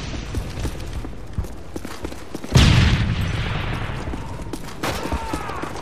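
A grenade goes off in a Modern Warfare 3 online shotgun match, a heavy boom that rings out amid scattered gunfire and game clatter.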